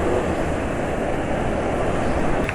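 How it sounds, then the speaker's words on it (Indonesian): A cold car engine runs at idle on a homemade test engine oil, giving a steady, smooth, continuous mechanical hum and rumble at an even level throughout, with no talking. "Di kondisi sekarang ketika mesin dingin, suaranya termasuk halus ya"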